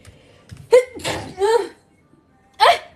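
Several close, sharp sneezes burst out in quick succession, loud and explosive with short breathy gaps, the last one coming after a brief pause.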